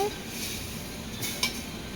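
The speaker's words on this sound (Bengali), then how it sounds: "এটা চামচ টেনে ভালো করে নাড়াবো।" A spoon stirs raw noodles around a pan, giving a soft, steady scraping and clinking with light sizzle, with one sharper clink near the end.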